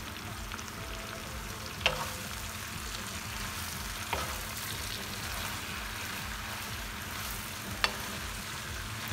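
Greens fry and sizzle steadily in a pan for an Indian fish florentine, a soft continuous crackle with a few brief clinks as they are stirred around.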